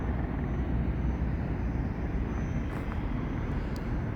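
An airplane takes off at an airport, heard as a steady, distant engine roar with outdoor wind noise and no speech.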